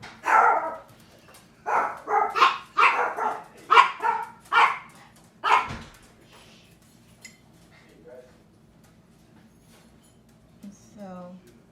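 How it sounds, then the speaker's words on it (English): Small pet chihuahuas bark in a rapid run of sharp, high yips for several seconds, fairly close, then fall quiet with a few faint whimpers afterward. "sorry about that, the dogs, my little chihuahuas"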